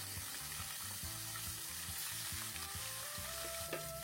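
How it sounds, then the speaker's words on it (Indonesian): Smoked fish fries in hot oil over medium heat, giving a steady close crackling sizzle with small pops throughout, with no voices. "goreng ikan asapnya dalam minyak panas api sedang"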